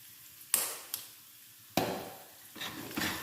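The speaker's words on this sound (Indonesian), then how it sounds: "Kita tumis dia sampai harum ya guys" Spices and ground pepper are sautéed in hot oil, with sharp clinks and scrapes of a utensil against the pan over a low, soft sizzle, close and without talk.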